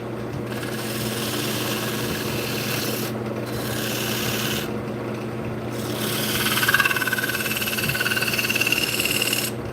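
Loud, steady grinding rasp of wood being power carved with a CBN wheel on a spinning tool, continuous and close with brief dips in intensity, no talking.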